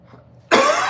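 After a brief quiet moment, a single loud, harsh cough bursts out close to the microphone and trails off.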